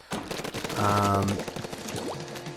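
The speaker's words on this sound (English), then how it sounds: "it is a sniper rifle, and I've got that tiny little reticle, and as I charge up, it goes farther and inks more turf in a straight line" In the Splatoon video game, a charger sniper rifle builds up with a sustained humming tone, then fires ink amid rapid rattling bursts and other game effects, with a voice faintly in the background.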